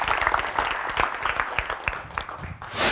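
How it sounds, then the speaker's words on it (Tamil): At a Tamil speech event, an audience gives a burst of applause for young speaker Devatheeran: dense, steady clapping from many hands that starts to fade near the end. "தேவதீரனுக்கு ஒரு நல்ல கைத்தட்டல் கொடுத்துடலாம்"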